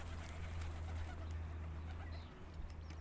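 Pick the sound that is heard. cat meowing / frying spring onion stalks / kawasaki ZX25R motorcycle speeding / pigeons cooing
pigeons cooing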